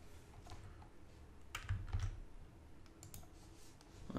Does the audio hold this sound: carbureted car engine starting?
no